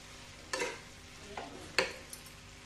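Spices are stirred in a frying pan for Bihari-style aloo parwal sabzi, with a few quiet scraping strokes of a spoon over a faint sizzle, close by and alone.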